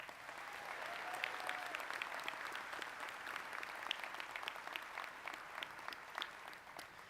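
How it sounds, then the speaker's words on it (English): Steady applause from a crowd, many hands clapping continuously at an even level for several seconds. "provide a round of applause for her"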